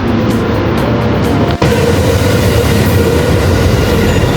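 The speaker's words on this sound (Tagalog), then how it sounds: "Hello, Kitty Train!" A Hello Kitty train running on the rails gives a loud, steady rumble with wheel noise, heard close throughout, with a brief dip partway through and no talk.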